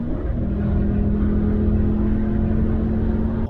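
Steady engine drone from a Mercedes AMG car, a continuous close hum with a low tonal note held for a few seconds, no talk.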